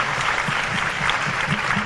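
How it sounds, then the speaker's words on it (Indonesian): Students at a question-and-answer session with student council heads in Jakarta applaud, producing brief, dense clapping from a crowd at steady loudness. "Beri tepuk tangan semua yang benar"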